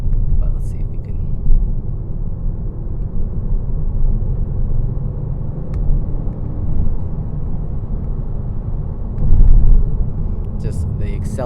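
A 2022 Kia Stinger GT1 accelerating on a road, heard from inside as a steady low engine and road rumble that swells briefly near the end, with a few faint background sounds.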